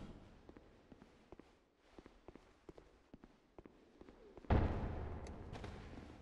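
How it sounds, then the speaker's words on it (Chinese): A Dark Souls 2 player character bumps into a door: light, evenly spaced footstep taps give way to one heavy, booming thud that lingers and slowly fades. "我踩到，我撞到门"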